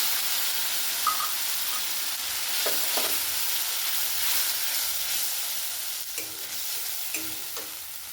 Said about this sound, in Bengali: এবার মশলাটা দিয়ে দিচ্ছি। এই যে দুরকম সর্ষে, পোস্ত আর চিনে বাদাম আর কাঁচা লঙ্কা